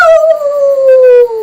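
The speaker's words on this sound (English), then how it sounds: "Suddenly, they hear a howl." A long, loud, close dog-like howl from someone in a werewolf costume at a Halloween party. It holds one steady tone that slowly falls in pitch over about a second and a half, with no talking.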